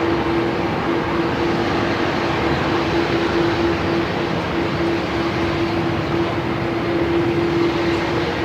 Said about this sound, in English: The Dreamliner coming in from Singapore.